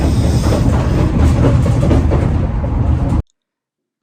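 A train running on rails, heard as a loud, steady broadband rumble with a faint clickety-clack rhythm that carries on for about three seconds, then cuts off abruptly into silence.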